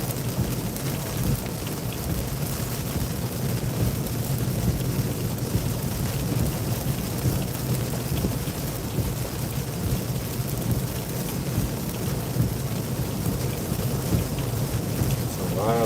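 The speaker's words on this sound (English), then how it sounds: "Looks like the rain is mostly coming straight down." Heavy rain falls straight down at night during a storm near Joplin on a roadside, a dense, constant roar with low thunder rumbling underneath throughout.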